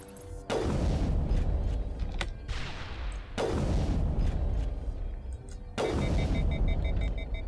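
Three heavy booms from grenade blasts in the video game Mass Effect, each a loud broadband burst with a long rumbling decay, spaced roughly three seconds apart, with no talk over them.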